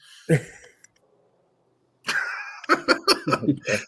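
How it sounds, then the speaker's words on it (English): A sharp cough near the start, then quiet, followed by a burst of coughing mixed with throaty, laugh-like sputters. "We got a comment on coughing."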